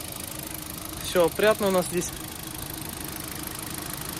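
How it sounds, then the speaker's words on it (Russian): A Hyundai Solaris car engine idles evenly with a steady low hum beneath a brief spoken phrase from a nearby man. "по двигателю тоже нареканий нет, работает ровно"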